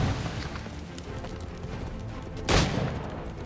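A single gunshot rings out in the Assassin's Creed 3 video game, a sharp burst cutting through a busy background of game noise.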